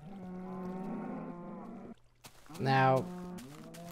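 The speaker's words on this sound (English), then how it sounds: "One cow, lots of cows everywhere." Several cows mooing in the video game Minecraft, long low moos close by, one loud moo after a brief pause, with a single spoken word over the sound.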